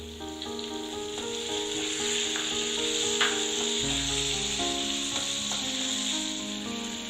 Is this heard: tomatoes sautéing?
yes